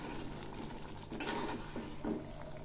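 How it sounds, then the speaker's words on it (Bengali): Vegetarian drumstick curry with green and red chili paste and water being stirred in a pan, a brief quiet scraping stir with a couple of soft utensil clinks over faint simmering. "আবার একটু নেড়ে দিচ্ছি।"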